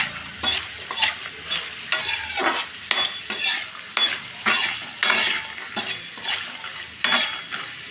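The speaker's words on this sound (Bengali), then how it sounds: "এটা হচ্ছে বাদাম আর শুকনো লঙ্কা ভেজে নিচ্ছি।" Peanuts and dried red chillies frying in a pan, with rhythmic bursts of scraping and rattling as a metal spatula tosses them, about two strokes a second over a low sizzle, close up with no talking.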